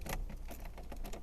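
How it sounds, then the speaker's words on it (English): Keys jangle and click as a key is slid into the ignition of a 2013 Fiat 500, a brief, close, metallic rattle heard inside the car. "let's stick the key in the ignition if I can"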